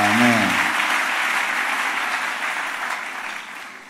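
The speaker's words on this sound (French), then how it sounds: "Acclamons le Seigneur." A church congregation applauds loudly and close by. The clapping is dense and sustained and fades slowly over a few seconds, and a voice briefly overlaps its start.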